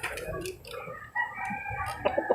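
Gamecock roosters clucking and crowing nearby in a backyard pen, with several overlapping calls and short bursts, moderately loud and no talking.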